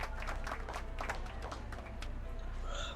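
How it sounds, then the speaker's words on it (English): Applause in a Back to the Future video game: a short burst of crowd clapping with scattered claps throughout, fairly steady in level. "How about a round of applause just for the heck of it?"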